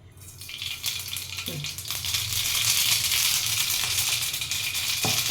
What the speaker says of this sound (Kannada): ಈಗ ಒಗ್ಗರಣೆ ಹಾಕ್ತೀನಿ